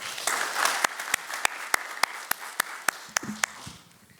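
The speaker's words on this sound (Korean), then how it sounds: "박수로 맞이해 주시기 바랍니다." Audience applause welcoming a professor's talk on CAR-T cancer therapy at a university knowledge-sharing seminar in a lecture hall: a steady wash of many hands clapping with sharper individual claps standing out in an even rhythm, fading out near the end.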